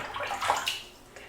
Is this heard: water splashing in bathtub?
yes